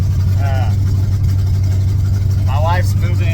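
A 1982 Chevrolet C10 pickup's engine idles with a steady low rumble close by, while faint chirping sounds break through twice in the background.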